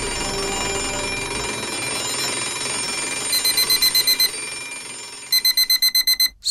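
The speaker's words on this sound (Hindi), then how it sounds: "स्कूल बेल बजते बजते ही धीरे धीरे घर का अलार्म क्लॉक बन गई" A ringing school bell gives way to a home alarm clock, first as a steady metallic ring, then as a run of rapid, loud pulsed beeps in two bursts that stop abruptly.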